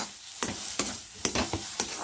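A spatula stirs shrimp paste in a kadai, giving about five sharp, close scraping strokes at a steady pace with a faint sizzle in between.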